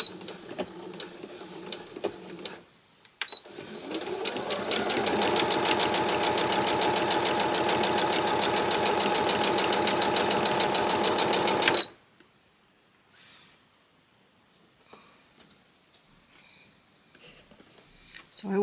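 A sewing machine stitches quilt pieces in a fast, steady mechanical chatter that runs for about eight seconds and then stops abruptly, with soft talking and handling sounds before and after.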